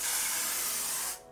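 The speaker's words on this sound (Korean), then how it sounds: "스프레이를 착 발라줘요." Hair spray misted onto a man's styled hair, one continuous close hiss lasting about a second before cutting off.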